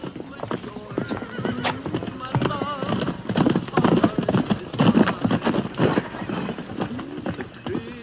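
Horse hooves clip-clopping at a walk, close and irregular, with repeated whinnies and snorts mixed in.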